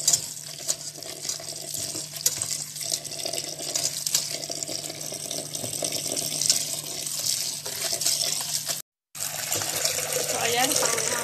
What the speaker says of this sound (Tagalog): Kailangan natin hugasan ng 5 times.